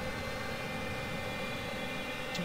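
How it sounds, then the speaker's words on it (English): Jet engine roar from an AI-controlled airliner taking off in the Prepar3D v4 flight simulator, a steady broadband rumble and whine that stays loud and constant throughout with no voices. "it's looking like that AI jet is just going to get off the runway in time"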